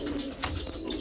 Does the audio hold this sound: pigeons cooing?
yes